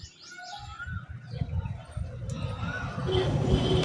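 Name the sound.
birds chirping and calling from a rooftop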